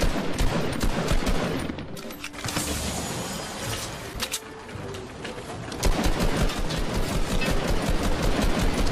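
Gunfire from a turret in the video game Fortnite, dense rapid bursts running almost continuously at close range, dipping briefly midway before resuming loud.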